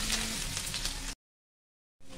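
Onion and garlic frying in hot oil make a loud, dense sizzle that cuts off abruptly and then resumes briefly.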